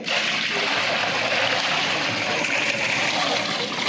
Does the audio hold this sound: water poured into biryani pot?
yes